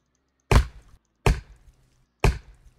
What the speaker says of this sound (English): stop chopping the tree